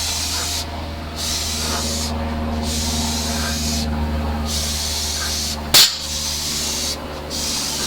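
An airbrush sprays Alclad metallic paint in a steady broadband hiss that pulses on and off in short bursts as the trigger works, close and continuous, with a brief sharp click near the end and no talking.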